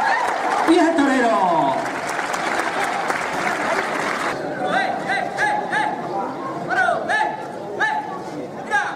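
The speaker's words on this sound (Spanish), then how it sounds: "¡Palmas, Montanche! ¡Palmas!" Crowd clapping in rhythm at a rural bullfighting-style exhibition by the Arte Extremeño group in Montánchez, a dense wash of applause with shouted cheers and chatter over it, then sharper scattered claps as it thins out.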